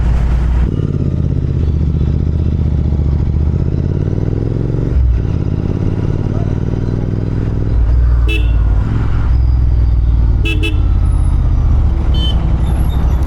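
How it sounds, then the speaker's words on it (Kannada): A Royal Enfield Interceptor 650 twin-cylinder motorcycle idles as it warms up, a loud, steady low engine rumble running throughout, with a few faint clicks and brief tones from nearby traffic in the background. "ಗಾಡಿ ವಾಮ್ ಅಪ್ ಆಗ್ತಿದೆ"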